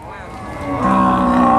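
A large cow at a livestock market gives one loud, close, drawn-out moo that swells in strength partway through.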